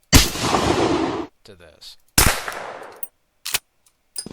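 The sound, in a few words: gunshots, unsuppressed and suppressed, from a video game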